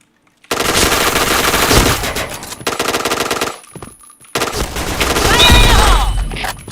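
Rapid automatic gunfire in a shooter video game, loud close bursts separated by short pauses, with a brief spoken word near the middle.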